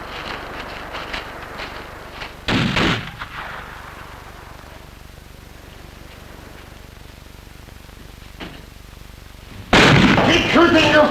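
Two loud bursts of gunfire in a 1959 British naval comedy film, a short volley early on and a heavier, sustained burst near the end, separated by quiet background.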